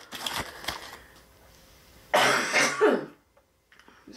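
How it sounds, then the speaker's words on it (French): A woman coughs and clears her throat indoors in a few short bursts, with a louder, harsher cough fit in the middle followed by quiet. "J'ai encore la grosse toux vilaine."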